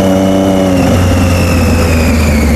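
A motorcycle engine revs loudly and close, a steady throaty drone whose pitch shifts as the throttle rises, with no talking.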